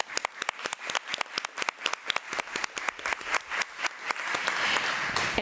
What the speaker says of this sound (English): let's give Mrs. Armentrout a round of applause